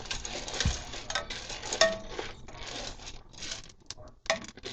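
A child stirs a pot of play soup with a spoon, giving close, uneven scraping and light clinking against the pot in quick rhythmic strokes that run continuously for several seconds.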